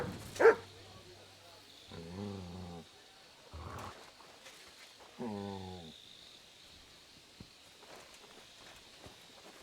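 A dog in Kingdom Come: Deliverance II gives a few short, loud barks in separate bursts over faint background ambience, with footsteps and no talking.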